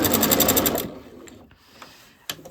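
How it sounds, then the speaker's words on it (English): A sewing machine stitching binding onto a table runner, running in a quick burst of rapid needle clatter for under a second, then stopping, with soft handling noises and a brief click afterward. "And then I'm just going to continue sewing"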